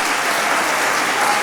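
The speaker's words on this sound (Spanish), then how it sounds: "recibimos, por favor, con un aplauso" An audience at a human rights route inauguration event in Oviedo claps, dense and sustained applause filling the room without a break.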